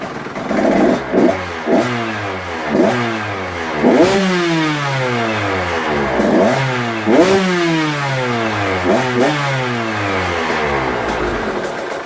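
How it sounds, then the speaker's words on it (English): KTM 125SX two-stroke dirt bike engine, freshly rebuilt top end and fully warmed up, getting repeated throttle blips: loud, close ringing revs rising and falling over a steady idle, with no talk. "I'm going to give her some blips to the throttle and just make sure the power valve's working good"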